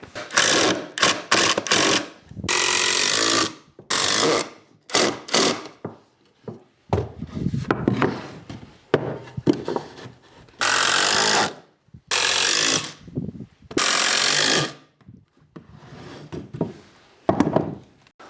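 A power drill drives screws into wooden planter legs, repeated loud whirring bursts of a few seconds each separated by pauses, with knocks and handling thuds of the wood in between.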